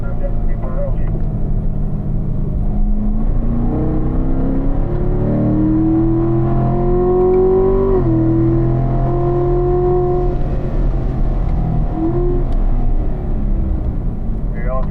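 A race car rounds turn 5 on a track, its engine a steady loud drone with pitch rising and falling through the corner, while a voice talks over it.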